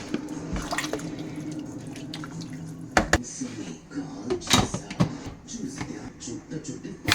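Washed rice and water poured into a cooker outdoors, with splashing pours, drips and sharp knocks against the pot, while a voice talks intermittently over it.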